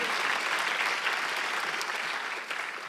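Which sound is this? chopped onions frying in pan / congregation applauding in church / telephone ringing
congregation applauding in church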